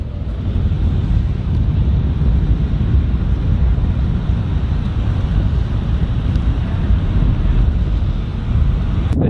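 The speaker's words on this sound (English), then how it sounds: "it is windy today" Strong, overcast coastal wind buffeting the microphone in a steady, loud, low rumble that persists without letup, with no one talking.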